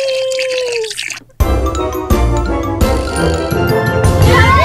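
Water full of Orbeez beads is poured, a loud, continuous splashing rush with tinkling bead patter that begins abruptly after a quieter moment and keeps going to the end.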